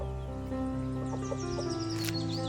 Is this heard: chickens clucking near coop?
yes